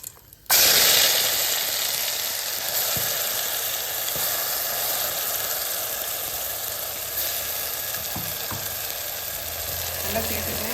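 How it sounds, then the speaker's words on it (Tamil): Cinnamon, cloves, cardamom and star anise drop into hot oil for a karamani rice dish, setting off a sudden loud sizzle that settles into a steady, close frying hiss. "இந்த பட்டை, லவங்கம், ஏலக்காய், ஸ்டார் அனீஸ் எல்லாத்தையும் வந்து நல்லா பொரிய விட்டுடலாம்"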